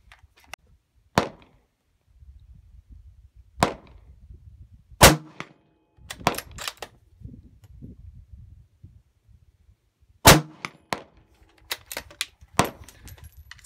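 A 6.5 Grendel Howa bolt-action rifle with a Cherry Bomb muzzle brake fires a string of sharp, loud reports spaced a few seconds apart, with softer clicks and clatter of bolt work between shots.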